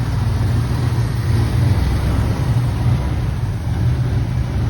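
A car engine idles with a steady, even low rumble that holds constant throughout, with no voices.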